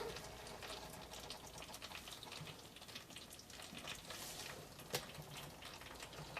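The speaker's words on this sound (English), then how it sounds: "I hear the butter bubbling on the bottom" Butter bubbling softly in a pot with brown sugar, salt and honey, a steady faint sizzle and simmer with occasional small pops, close and alone.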